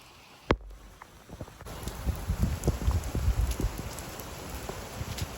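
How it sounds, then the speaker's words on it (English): Steady rain patters on a surface nearby, with scattered louder drops and a sharp thump near the start. "come play in the rain"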